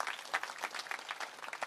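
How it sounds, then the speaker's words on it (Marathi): Scattered applause from a crowd at a political speech, quiet and somewhat distant, with individual claps standing out in an uneven patter. "त्यांच्यासाठी टाळ्या वाजवा."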